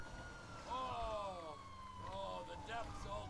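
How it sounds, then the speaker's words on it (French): A police car siren wails in the GTA V video game, its rising and falling tones sweeping repeatedly in the mid-range over steady background game noise, with speech nearby. "on met les sirènes"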